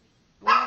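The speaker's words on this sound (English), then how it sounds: "I apologize for my dog barking." A Shih Tzu lets out a single short bark, sudden and fairly loud, after a moment of near silence, with a person briefly starting to speak.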